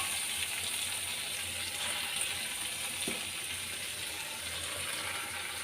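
Chopped banana flower dropped into a pan of fried potatoes and shrimp, a soft, even sizzle holding steady from start to finish with one faint knock partway through.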